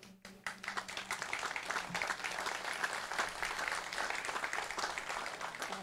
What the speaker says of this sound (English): we all applaud that